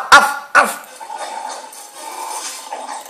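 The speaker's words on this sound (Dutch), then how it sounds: "Meisjes, dit is Kyle, mijn hond" A dog gives two sharp, loud barks close by, then follows with a softer, drawn-out whining whimper that trails off.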